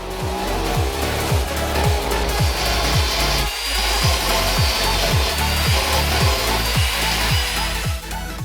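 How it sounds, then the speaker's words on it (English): An air saw cuts through old breather tubes, its reciprocating blade buzzing in a steady, loud rhythm of evenly repeating strokes for the whole stretch, with a brief dip partway through and no voices. "bring out the big old air saw, and then cut off the old breather tubes on the end"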